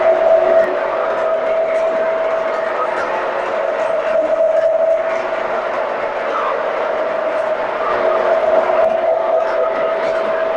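A model train's electric motor whirs steadily with a constant high whine over a rolling rumble of wheels on track, continuous and fairly close throughout.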